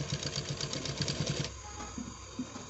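A sewing machine runs while stitching a seam for a triple stitch, its needle chattering in a fast, steady rhythm up close for about a second and a half, then stopping, followed by quieter handling sounds.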